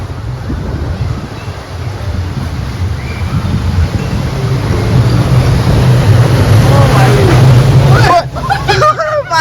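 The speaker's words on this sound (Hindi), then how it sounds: "चिंटू राइड बेसिकली छोटी राफ्टिंग थी" Small rafting boat ride at Thorpe Park splashing through water, a steady wash of rushing water and wind rising louder toward the end, with people's voices mixed in.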